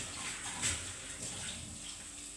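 Water is poured into a bowl while cooking dal with greens, giving a short, steady splashing stream close by with no talking.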